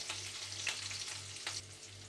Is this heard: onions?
yes